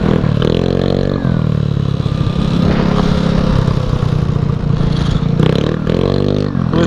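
A two-stroke Honda Elite scooter engine revs hard and steadily during wheelies, a loud, close, buzzing drone with rising and falling pitch as the throttle is worked, running continuously throughout.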